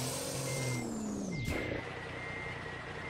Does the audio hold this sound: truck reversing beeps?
yes